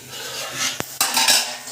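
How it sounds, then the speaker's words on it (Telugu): A metal pot lid drops and clatters against the pan while onion and drumstick curry cooks with ginger-garlic paste and spices. A sharp bang is followed by a short metallic rattle over a steady background hiss. "మూత వేసుకుంటే అయ్యే పడిపోయింది."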